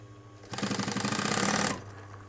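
Close sewing machine stitching a leather jacket during an alteration, a quick run of rapid, even needle strokes lasting about a second before stopping, with no talk.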